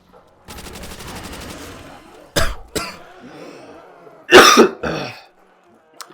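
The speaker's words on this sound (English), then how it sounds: "I'm coughing a lot" A person coughs nearby during a Call of Duty: World at War custom zombies game on the Anzio map, sharp repeated bursts set among game noises and rapid gunfire-like crackles.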